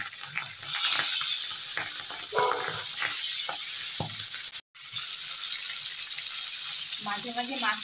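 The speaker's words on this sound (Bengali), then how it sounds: "মাঝে মাঝে মাছটা কিন্তু ফেটে ফেটে উঠছে।" Pomfret fish frying in hot oil, a loud, steady close sizzle with irregular crackles and pops, briefly cut off once mid-way.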